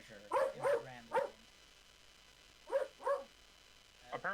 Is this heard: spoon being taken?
no